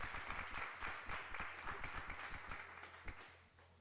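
An audience at a book presentation claps, a dense patter of hand claps that gradually thins out toward the end.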